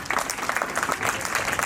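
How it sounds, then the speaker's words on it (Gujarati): A school event audience in Gujarat claps together in a quick, even rhythm, moderately loud and close, a short burst of applause with no one speaking. "ફરી આપણે એમને તાળીઓથી વધાવી લઈએ"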